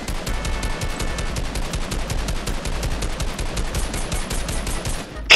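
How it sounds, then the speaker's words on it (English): Rapid automatic gunfire in the video game Fortnite, during a Zone Wars match, hammering continuously and loudly for several seconds before cutting off, with no talk over it. "Why the fuck are you shooting?"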